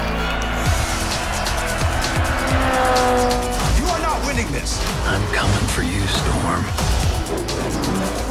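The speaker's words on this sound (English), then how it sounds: "Fully functioning radio control, Lightning pulls ahead of Jackson." A radio-controlled Lightning McQueen toy race car drives at a toy Piston Cup race against Jackson Storm, with a steady motor whine, engine-like revving and squealing sounds, and excited voices talking over it throughout.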